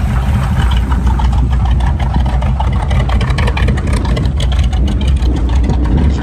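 An old truck's engine idles steadily at a 2021 Florida car show, a loud, close, continuous rumble with an even rhythm and no talk over it.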